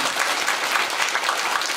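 Steady, dense applause from a church congregation for an orchestra, continuous clapping filling the whole moment without any voices standing out.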